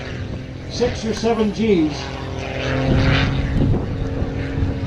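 An aerobatic propeller airplane flown by Patty Wagstaff at the New Smyrna Beach Balloon and Sky Fest airshow, its engine droning and swelling as it roars past, loud and steady, while a commentator talks over it.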